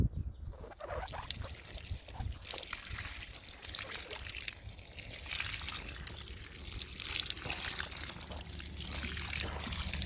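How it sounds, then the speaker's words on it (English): Water pours steadily onto a decorative succulent garden planted in an old tyre, a continuous close splashing trickle that runs the whole time with small shifts in flow. "let's add some water"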